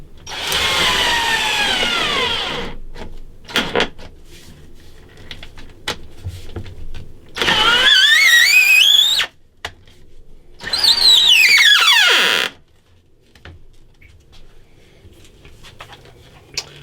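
A cordless drill works on a wooden fretboard miter block in three whining bursts that rise and fall in pitch, separated by quieter clicks and handling knocks, close and loud.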